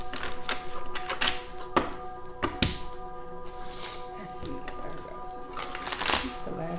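A deck of tarot cards is shuffled by hand, giving soft riffling, tapping and light thuds throughout, under steady nearby talking.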